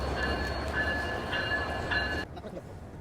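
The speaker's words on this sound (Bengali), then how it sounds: "অন্য একটা ট্রেন চলে আসলো।" Another train pulls into Ishwardi railway station, giving a steady heavy rumble with a thin metallic squeal above it that fades as the noise drops off near the end.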